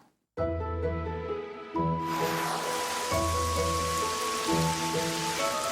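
Heavy rain pours down steadily in a dense, continuous wash that thickens partway through, alongside sustained musical tones.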